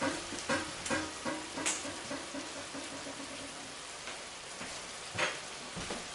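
Pork steaks sizzling uncovered in a pan, a steady crackling fry with scattered sharp pops and spits, moderately loud and heard alone.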